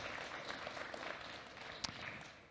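A crowd at an incubator closing evening applauds the Workspaces teams, a soft, steady wash of clapping heard from a distance in a hall.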